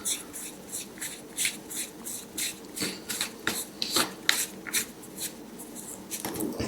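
A homemade point electrode for electrotherapy is pushed onto a screw and tightened by hand, making a run of small close rubbing and scraping strokes in a quick uneven rhythm.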